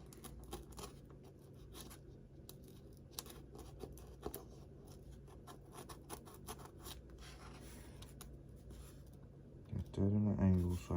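Styrofoam being cut for model airplane flaps on a Dynam AT-6/SDB, a steady quiet scratchy rasp with small bursts and scrapes, then a voice speaking loudly near the end.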